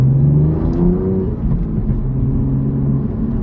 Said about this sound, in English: Gotta stop here and put it into first as I'm waiting, and then ease into it.